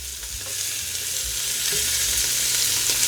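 Pork browns in a pot for old-school soul food pork and beans, a dense steady sizzle with low scraping stirring sounds beneath, close and continuous.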